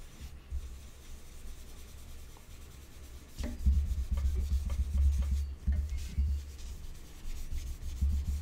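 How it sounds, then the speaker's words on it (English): An eraser rubbing out graphite on paper during a pencil drawing: faint, soft scrubbing strokes come in quiet bursts, growing a little louder and more continuous in the second half, with no voices. "we're going to rub that out again to create those whiskers"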